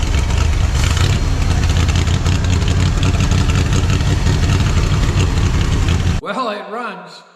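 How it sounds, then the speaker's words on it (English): A Tucker Snow Cat engine runs loud and steady for about six seconds, then cuts off abruptly, leaving a short stretch of faint voices and background sound. "no abnormal noises inside the engine, nothing in there knocking"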